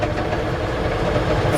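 1965 Chevrolet C-10 engine running as the clutch is let out, a steady loud low rumble with a faint mechanical rattle, close and continuous.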